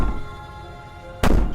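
A heavy banging thunk in the video game Slay the Princess, one sudden loud impact near the end after a quiet droning background.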